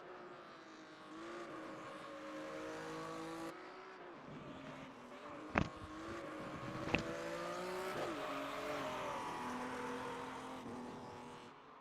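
An old-school V8 race car in a racing video game drones steadily, its engine note rising and falling as it revs, with two sharp clicks partway through and no talking.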